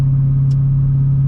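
2009 Corvette ZR1 under throttle, a loud, steady, close engine drone holding one deep tone through a brief moment with no talk.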